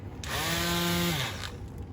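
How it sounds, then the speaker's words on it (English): A handheld mouse sander whirs against a wooden chest of drawers outdoors in freezing weather, spinning up and running steadily for about a second before winding down, loud and close with a humming motor tone. "we're going to use one of these, a mouse sander"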